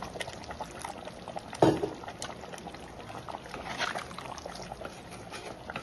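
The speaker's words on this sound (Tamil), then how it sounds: "இப்போ கொஞ்சம் தண்ணி ஊற்றிக்கணும்" Water is poured into a pot of Tamil-style country chicken curry as it cooks. A brief, faint splash and trickle of liquid is heard close by against quiet kitchen background noise.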